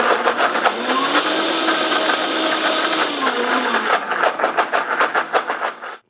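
A high-speed blender whirs loudly through a banana and pumpkin pie smoothie, a steady roar that turns into a rhythmic, pulsing churn near the end before cutting off abruptly.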